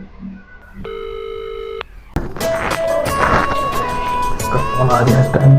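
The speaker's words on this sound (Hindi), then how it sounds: "बंटी को कॉल करता हूँ।" A phone sounds an electronic dialing tone pattern, then a loud, busy stretch of ringing and household clatter follows, with voices talking over it close to the microphone.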